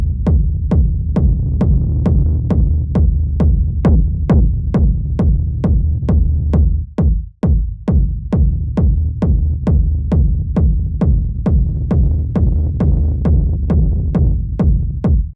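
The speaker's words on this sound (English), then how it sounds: "And then when I turn the kick rack on, it will sound like this." A techno kick drum processed through a kick rack in Ableton pounds in a steady, fast four-on-the-floor pattern with a continuous rumbling low-end tail. Near the middle the loop briefly drops out with a sweeping dip before the steady kicks resume.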